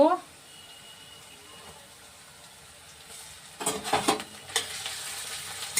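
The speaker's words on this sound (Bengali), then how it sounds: "এবার রসুনটা একটু ভেজে ওর সঙ্গে আমি কাঁচা লঙ্কাটা দিয়ে দেব" Garlic fries in a pan, starting as a quiet low hiss that swells into louder sizzling bursts with stirring scrapes over the last few seconds.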